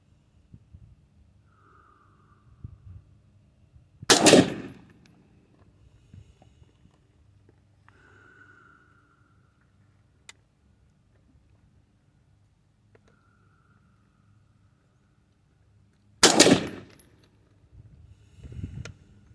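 Two sharp rifle shots fired from a prone position ring out about twelve seconds apart, each a loud close crack with a short decay, amid near-silence and faint background sounds.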